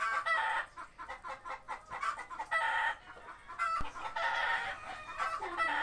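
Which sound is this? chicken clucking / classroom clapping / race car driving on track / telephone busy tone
chicken clucking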